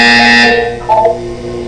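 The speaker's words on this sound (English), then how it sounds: "When you hear the buzzer, look down at the floor." A loud, harsh electronic buzzer from the game Portal 2 sounds once, then gives way to a softer tonal cue.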